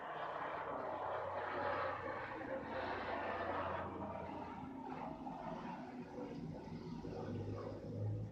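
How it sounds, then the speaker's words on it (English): A helicopter passes overhead, a faint, distant low engine drone that holds steady throughout under soft background noise. "It was the helicopter."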